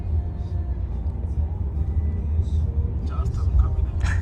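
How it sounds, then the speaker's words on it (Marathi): A driverless robotic electric car goes by on a road in China, heard as a low, steady rumble of tyres and traffic, with faint voices near the end. "ही रोबोटिक कार आहे याच्यामध्ये ड्रायव्हर नाही"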